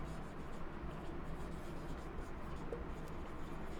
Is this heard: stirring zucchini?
no